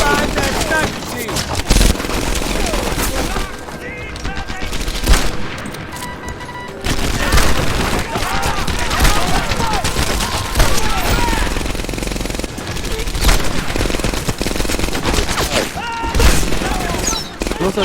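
Dense gunfire from a World War II shooter video game, rapid bursts and volleys sustained throughout, with a loud continuous battle din and shouting voices mixed in.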